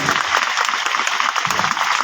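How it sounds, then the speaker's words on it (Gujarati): Audience applause greeting a swami at a Swaminarayan temple sermon gathering, a steady burst of many hands clapping close and loud throughout, with no one speaking over it. "સ્વામીને એકવાર જોરદાર તાળીથી આપણે બિરદાવી આવકારવી"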